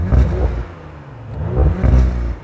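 An Audi RS4 with the optional sports exhaust in sports mode, valve open, revved twice in quick bursts, the engine rising and falling with a throaty whir, loud and close with no speech.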